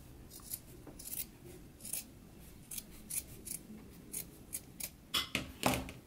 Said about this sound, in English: we can go ahead and trim this down to 1/4 inch seam allowance